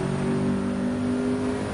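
A car engine in the Gran Turismo racing game, played in VR, screams at high revs after a money shift from fourth into third gear. The sustained whine holds steady and loud with no talking.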